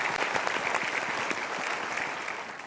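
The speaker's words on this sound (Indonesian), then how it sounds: "Tepuk tangan ya." Studio audience applauds at an Indonesian motivational talk show, a steady, moderately faint patter of many hands clapping, sustained without pause.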